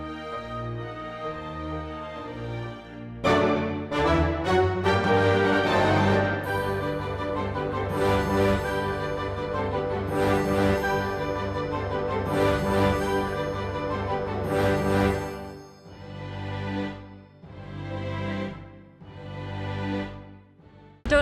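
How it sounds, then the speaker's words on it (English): Church bells ringing out over a street in Budapest on a hot, sunny day, a rich wash of overlapping tolls that swell and fade in uneven waves for around twenty seconds, with no talking. "there is church bells in the background"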